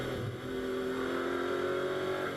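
A McLaren GT4 race car engine holds a low gear during a Pirelli GT4 America sprint race at Las Vegas Motor Speedway, giving a steady, fairly faint droning tone with a slight rise in pitch, heard alone.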